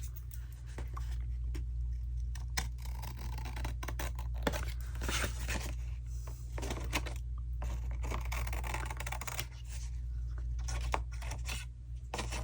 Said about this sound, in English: I'm going to cut just a sliver off here